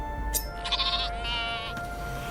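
A sheep bleats in a couple of quavering calls, fairly close, over a steady background hum.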